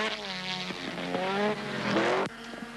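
A Mazda RX-7 race car at the 1980 Hardie-Ferodo 1000 at Mount Panorama screams past close by with a loud, high rotary-engine wail, rising and dropping through shifts before a sharp cutoff, with no talking over it.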